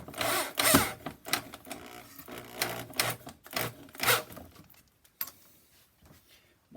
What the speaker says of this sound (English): Now I gotta get my screw gun. Put some screws in this thing.